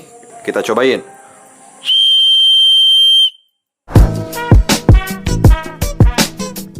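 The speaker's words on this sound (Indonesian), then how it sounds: "kamu tinggal tiup peluit aja." An aluminium emergency whistle gives one loud, sustained shrill blast lasting over a second, close up, with brief speech before it and chatter following.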